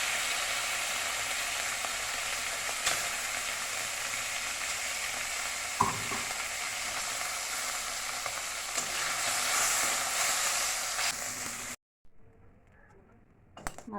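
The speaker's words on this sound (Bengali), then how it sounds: "তেল গরম করে মাছগুলো ছেড়ে দিলাম।" Small chuno fish, rubbed with salt and turmeric, sizzle and crackle in hot oil in a pan, a steady loud fry with a brief scrape, ending in near quiet with faint clatter.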